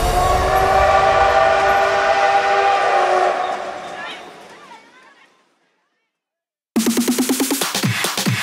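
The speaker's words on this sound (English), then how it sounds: "Train." A train roars past loudly with a sustained horn-like tone, then fades away to silence before another burst of rhythmic, music-like sound cuts in abruptly.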